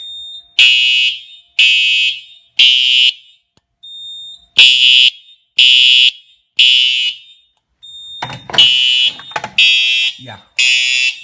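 A True Alert fire alarm under a cover plate sounds during a system test, repeating bursts of three shrill beeps separated by pauses, loud and close, with some rustling and noise in the last group.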